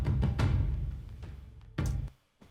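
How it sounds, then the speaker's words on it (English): Sampled taiko drums from a free sampler hit several times in close succession, with booming low strikes and decaying rumble, followed by a later pair of hits and a quiet tail. "Taikos are just a type of drum that's like used quite a lot in like Film scores and"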